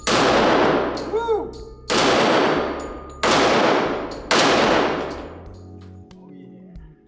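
A Smith & Wesson SW1911 E Series pistol fires four loud, sharp .45 ACP shots about a second apart outdoors, each ringing off with a long echoing decay, and someone briefly cheers.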